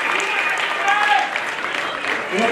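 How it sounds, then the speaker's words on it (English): Sustained applause from a university event audience, a steady wash of clapping that holds at an even level throughout with no pauses. "let's give a warm round of applause for our winners and our performers"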